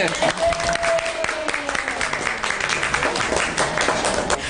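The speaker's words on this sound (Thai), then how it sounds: "ปรบมือ" Audience applauding at a school library handover ceremony, a steady wash of clapping that fills the whole stretch at moderate loudness, with a voice speaking over it.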